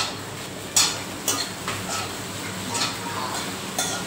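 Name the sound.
stirring and mixing khichdi with salt in a pot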